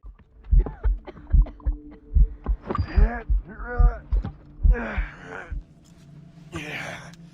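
Slow, heavy heartbeat thumps slowed by poison in the video game Assassin's Creed Rogue, pulsing repeatedly under gasps and strained breaths, loud and close.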